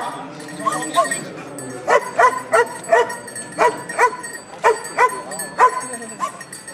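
Detection dog at an internal security demonstration, giving several sharp barks in a rhythmic run mixed with whimpers and yips, fairly close, over steady crowd murmur and background talk.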